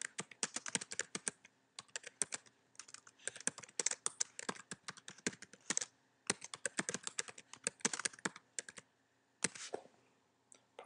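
Fast bursts of typing on a computer keyboard as a hotel name is entered, crisp close key clicks in several quick runs with short pauses between.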